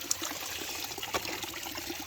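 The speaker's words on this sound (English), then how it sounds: "this delicious, natural, hot water spigot straight from the earth source" Natural hot spring water runs from a spigot fed straight from an underground source, making a steady, soft trickle and splash at close range with faint gurgles and no voices.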